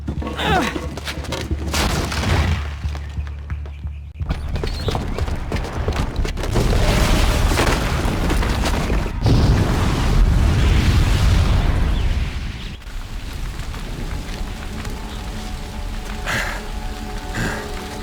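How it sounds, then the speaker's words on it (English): A bomb detonates in Horizon Zero Dawn, with heavy rumbling blasts and crackling debris swelling to a loud, sustained burst in the middle before settling into a lower, continuing roar. "the booby trap on the bomb downstairs is gonna get set off"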